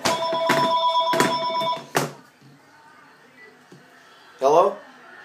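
A telephone hidden inside a refrigerator rings in sharp repeated electronic bursts, muffled yet bright, then stops as a person speaks nearby and a short squeaky sound follows.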